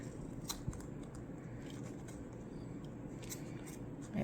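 Scissors snipping fabric while trimming material for a handmade luggage tag, producing a few small close cuts over steady low room noise.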